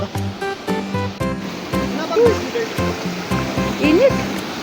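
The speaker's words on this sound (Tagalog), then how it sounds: "Wow, ilog na bin! Ilog na!" River water near Budahaw Falls in Burgos, La Union rushes steadily in a loud, close wash, with voices and chatter over it.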